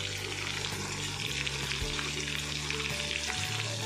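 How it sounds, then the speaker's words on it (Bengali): Pointed gourd fries in a pan with a loud, steady sizzle and crackle that runs the whole time, with no voices over it. "এইদিকে পটলটা ভাজা হোক।"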